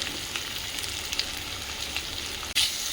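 Potatoes frying in a pan with salt and turmeric make an even, hissing sizzle close up, broken by one sudden loud clatter near the end.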